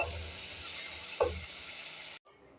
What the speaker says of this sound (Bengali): এগুলোকে একটু সর্ষের তেলে ভেজে নেব।